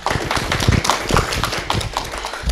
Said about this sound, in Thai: ก็ขอเสียงปรบมือให้อีกครั้งหนึ่งครับ